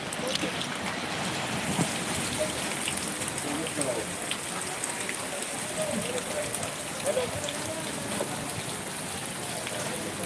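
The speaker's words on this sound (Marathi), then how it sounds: "पंधरा मिनटं झाली अशा पद्धतीने पाऊस पडत आहे" Steady unseasonal rain falls continuously in Natepute, a dense even hiss of drops with faint voices in the background.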